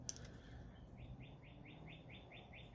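Small birds chirp outdoors in a quick, evenly spaced series of short, faint tweets running through the clip over a low, quiet background.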